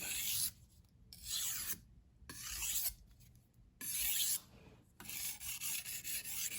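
A blade is drawn across a wet sharpening stone on a bench top platen, giving four or five close rasping strokes with short pauses between them, quiet and alone.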